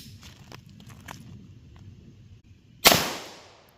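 A single loud pistol shot from a Keystone Munition 115 grain reload, fired at an outdoor range 40 feet from the target, cracks sharply and rings out into a decaying tail after a few faint taps and soft background noise.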